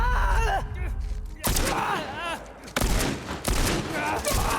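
Gunshots in The Last of Us, loud blasts cutting in at intervals over a dense game soundtrack with groaning voices and someone talking over the action.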